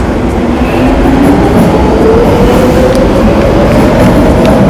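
A metro train in an underground station rolls past with a loud, continuous rumble and rising wheel whine that fills the space, steady and close throughout with no voices.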